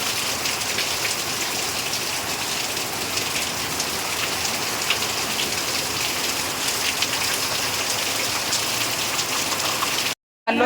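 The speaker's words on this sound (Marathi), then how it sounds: "आणि बघू शकता पाऊस एवढा जोरात लागलेला आहे इथे" Heavy monsoon rain pours down in a village, a dense, loud, unbroken roar of drops on surfaces that cuts out abruptly near the end.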